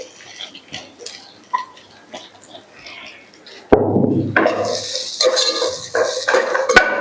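Sliced onions drop into a hot pan at home, then clatter and scrape loudly as a spoon stirs them against the metal, following a quieter stretch of kitchen clinks.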